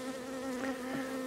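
Italian honey bees, slightly mixed, buzzing around a hive on a farm, a steady close drone with faint wingbeat tones drifting in and out and no talking.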